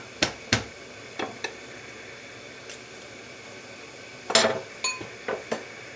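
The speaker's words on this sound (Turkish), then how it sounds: "Şöyle hemen sarımsağı şöyle vurdum mu çabuk soyulur." Garlic cloves are struck on a kitchen surface to loosen their skins, giving a few sharp knocks and clinks with quiet gaps between them and faint rattles of utensils.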